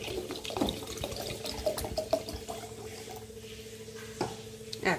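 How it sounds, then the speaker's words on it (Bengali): Water is poured into a flower vase on a dining table, trickling and splashing in uneven bursts close by, with light clinks of glass. "আমি এখানেও দিয়ে দেব কিছুটা জল।"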